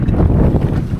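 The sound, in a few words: strong wind and waves heard from a boat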